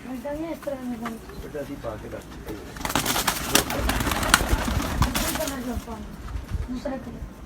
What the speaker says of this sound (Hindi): ये भी वही कबूतर हैं जी।